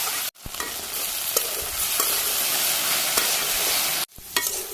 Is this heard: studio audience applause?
no